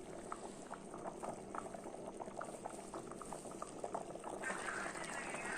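Rice with vegetables simmering in a pan gives steady soft bubbling and popping, close and fairly quiet.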